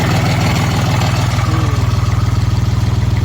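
A Jinma 264RE mini tractor engine idles steadily nearby, its low, even rhythmic chugging running alone throughout.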